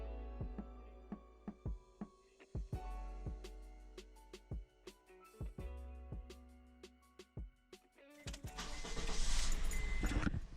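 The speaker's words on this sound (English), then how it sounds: "Now it's time to start the vehicle" A Honda CR-V with a 2.4L engine, just back together after a power steering line replacement, cranks and fires up amid sharp clicks and clunks, then settles into a faint steady running hum with a louder rush near the end.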